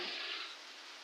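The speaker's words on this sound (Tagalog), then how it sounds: "Yan sa labas, umuulan." Steady rain falling outside in Makilala hisses with a bright, dense wash and no distinct drops, constant and moderately loud throughout.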